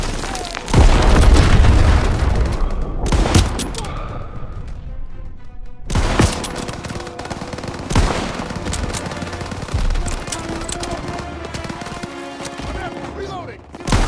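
Dense World War II battle from Call of Duty WW2, set in 1944: loud, near machine-gun bursts and rifle shots mixed with heavy booming explosions that keep rolling, with shouted voices among them.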